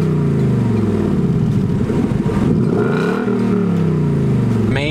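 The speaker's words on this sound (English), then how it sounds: "a pro for this thing is a freaking exhaust. This thing is so loud." A 2018 Ford Mustang GT V8 with stock exhaust revs loudly close by, its deep exhaust rumble rising and falling in pitch through a couple of throttle blips.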